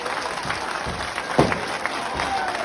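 A crowd at a temple chariot procession during the Jalichadev yatra claps in a dense, steady patter over a murmur of crowd noise, with voices mixed in.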